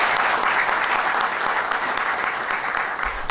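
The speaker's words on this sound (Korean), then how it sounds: "우리 이상원 박사님 나오실 때 우리 환영하는 뜻으로 박수로 환영해 주시기" Dense applause from a seminar audience welcoming a lecturer at an academic Reformation seminar, a continuous wash of many hands clapping at an even level throughout, with no speech over it.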